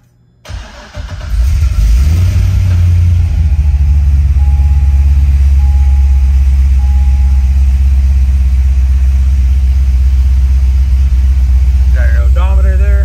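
A 2008 Corvette C6 Z06 with fixed heads, a BTR stage 2 cam and exhaust valves held open cranks and fires, then settles into a loud, deep, loping idle with little change until the end.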